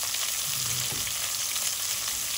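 Onions frying with salt in a pan, a constant loud close sizzle with a brief scraping stir, no talking.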